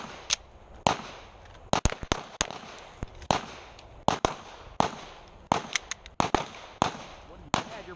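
Performance pistols firing at an outdoor shooting range, about a dozen sharp, loud cracks at irregular intervals, some in quick pairs, with brief echoes and faint voices in between.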